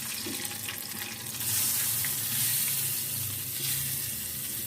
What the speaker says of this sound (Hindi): अभी हम दाल को तड़का लगा लेते हैं।